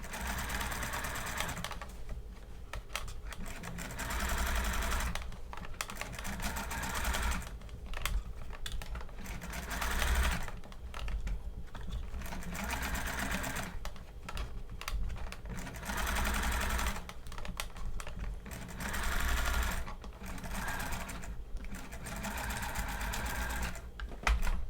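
A sewing machine stitches a collar in rhythmic runs, its fast mechanical whirring starting and stopping in several bursts with short pauses between, close and steady.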